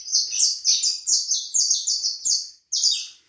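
A caged saffron finch (canário-da-terra) sings alone and close by, in a quick run of bright, rising chirps with short pauses between the bursts.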